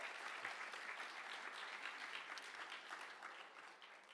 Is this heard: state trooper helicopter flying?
no